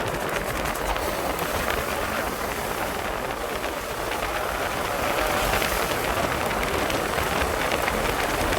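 Heavy rain falls in a steady, dense hiss that holds at an even, fairly loud level throughout, with no voices.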